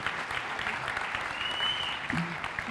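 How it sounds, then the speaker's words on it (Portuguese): Sustained applause from an audience, a dense wash of clapping with a faint voice briefly audible beneath it. "Salve de palmas para a Penny"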